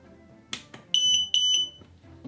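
A SquareOff Kingdom electronic chess set beeps at power-on: two loud, sharp electronic tones in quick succession, close by, between soft handling noises.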